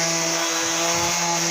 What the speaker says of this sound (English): this is a very easy sander to work with